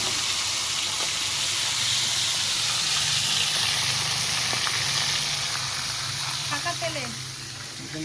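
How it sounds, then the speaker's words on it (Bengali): Fish head frying in white oil gives a steady, close hiss and sizzle that holds fairly loud for most of the stretch and then eases near the end. Kitchen noise sits underneath, but no one speaks. "পুরো সাদা তেলে ভাজা হচ্ছে।"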